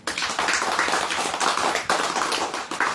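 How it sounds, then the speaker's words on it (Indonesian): An audience at a religious lecture claps hands together in steady, dense applause, loud and continuous for about three seconds with no talk over it. "Tepuk tangan dulu."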